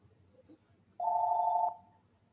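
A telephone rings once, a single steady electronic tone lasting under a second that trails off quietly, heard close with no talk over it.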